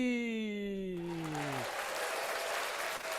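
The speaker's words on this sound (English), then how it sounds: "Big round of applause there." Brief applause breaks in after a descending musical jingle on a football podcast, a soft, even patter of clapping that carries on steadily to the end.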